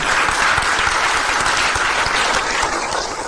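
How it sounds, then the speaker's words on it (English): An audience applauds steadily after a panel session at a Telcoin Association council meeting, a dense, continuous clatter of many hands that holds loud throughout and eases slightly at the end. "Let's have a round of applause."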